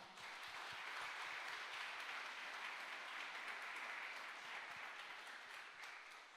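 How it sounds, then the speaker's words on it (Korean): A large audience at a company's 50th anniversary ceremony gives sustained, even applause, a broad wash of many clapping hands heard from a distance that holds steady and then tapers slightly. "다시 한번 뜨거운 박수 부탁드립니다"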